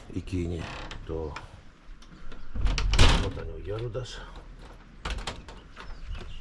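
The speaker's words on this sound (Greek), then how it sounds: "Κλείνουμε και την πόρτα." Someone closes a creaking door at a monastery on Mount Athos, ending in a solid thud partway through, while someone talks before and after.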